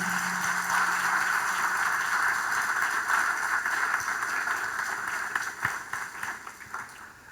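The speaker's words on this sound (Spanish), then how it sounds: "Le puede dar un buen aplauso a ese buen Dios con nosotros" A church congregation applauds in a sustained, dense wash of clapping that holds steady for several seconds and then thins out and fades toward the end.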